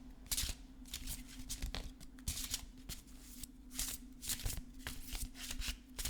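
A deck of oracle cards is shuffled by hand: repeated papery riffles and flutters in irregular bursts, close and fairly quiet, with a steady low hum beneath and no talking.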